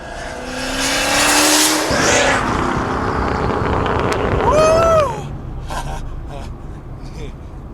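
An American muscle car roars as its engine revs hard and the tires spin and squeal, building loud and close before cutting off. Afterward a voice speaks over faint background noise.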